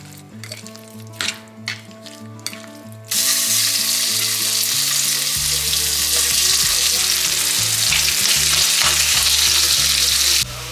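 Food for poutine sizzles and fries loudly in a pan at home, a steady dense hiss that starts abruptly after a few seconds of quieter clinks and handling, with low cooking hum underneath.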